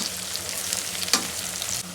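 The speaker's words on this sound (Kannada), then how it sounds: "ಇದು ಕೂಡ ಚೆನ್ನಾಗಿ ಫ್ರೈ ಆಗಲಿ" Mint and onion frying in a pan for chicken biryani produce a continuous close sizzle, with a sharp stirring scrape about halfway through.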